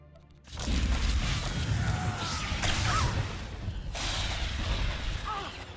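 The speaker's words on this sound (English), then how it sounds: "swat down the Republic artillery firing on our base" Republic artillery firing in Star Wars: The Old Republic, a sustained heavy rumble of distant blasts with whooshes and crashes layered over it.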